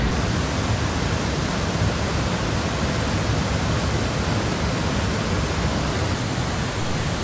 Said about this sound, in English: This incredible waterfall is actually man-made.